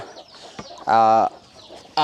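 Chickens in a coop in a rice-field setting give two loud, close clucking calls in short bursts, with quieter rustling and soft bird sounds between them.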